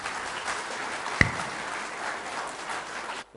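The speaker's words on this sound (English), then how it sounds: "Can we have a huge round of applause" At a corporate customer meet in Mumbai, an audience applauds a guest speaker with moderate, sustained clapping, one sharp louder clap standing out early, before the sound cuts off abruptly near the end.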